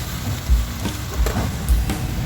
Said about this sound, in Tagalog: At maglagay tayo ng hot water